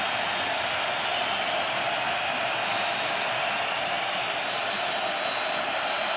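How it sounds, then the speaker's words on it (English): Football crowd at the Fargo Dome during a North Dakota State versus South Dakota State game, a steady, dense roar of cheering and noise that holds evenly throughout without any clear peaks. "And the Fargo Dome crowd comes to life."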